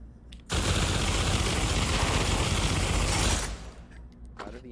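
Sustained LMG fire in the VR shooter Pavlov VR, a dense continuous burst lasting about three seconds, loud and close, then cutting off into quieter background.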